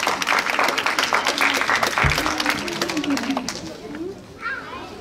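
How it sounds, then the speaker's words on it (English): An audience applauds a raffle winner at a religious birth celebration, giving a short burst of clapping with children's voices and chatter through it. The clapping fades after about three seconds as talk continues. "Give a round of applause."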